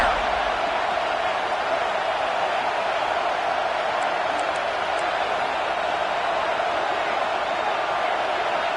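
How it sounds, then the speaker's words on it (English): Stadium crowd in a Madden football video game roars as a constant, loud, dense wash of noise with no breaks, filling the whole stretch. "this crowd trying to help keep them there"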